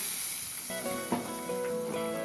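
Loud sizzling and crackling of hot oil as mustard seeds and chilies hit the pan for tempering a dry fish curry, a continuous hiss with sharp pops and spits.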